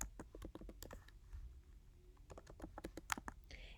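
Quick bursts of typing on a computer keyboard, soft close key clicks in irregular runs with a brief pause midway, faint and intimate.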